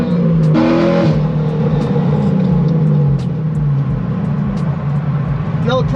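A C6 Corvette engine rumbles steadily at close range as the car drives, with rising harmonic bands suggesting acceleration through the gears, a brief surge of revving near the start.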